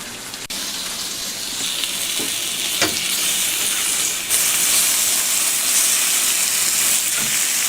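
Onions coated in BBQ rub sizzle in a pan over a little less than half flame, a steady, close frying hiss with a few soft clicks and stirring sounds, no talking.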